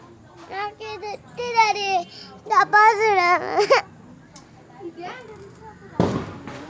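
A child cries and wails loudly during Diwali, then a single sharp firecracker bang bursts near the end.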